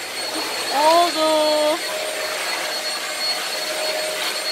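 A Bosch vacuum cleaner sweeps spilled kinetic sand off the floor with a steady, even whooshing drone, while a short spoken word and a brief tonal sound sit on top.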